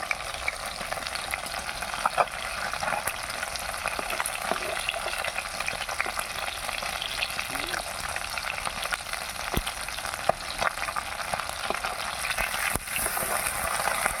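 Fish frying in a pan over a wood fire, a continuous crackling sizzle with scattered sharp pops, steady and close throughout with no talk.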